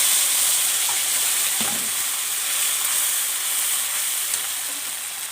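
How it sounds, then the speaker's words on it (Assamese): Tomatoes sizzle and fry steadily in a hot pan for a vegetarian raw banana curry made without onion or garlic, a continuous bright hiss with faint stirring scrapes and no talking. "বিলাহীখিনি দিছোঁ।"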